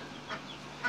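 Chickens roosting in a backyard hutch shared with rabbits give two short, soft clucks about half a second apart, faint against quiet background.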